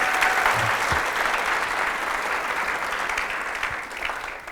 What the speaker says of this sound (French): S'il vous plaît, sous vos applaudissements.